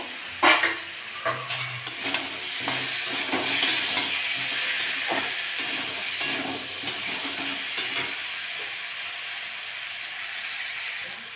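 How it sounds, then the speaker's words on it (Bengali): Spices and tomato sauté in a pan for a Bengali mourala fish and kochu curry. There is a continuous sizzle with repeated scraping stir strokes, close and fairly loud, and no talking. "ভালো করে কষে নেব। আর একটা টমেটো কেটে রেখেছি, ওটাও দিয়ে দেবো।"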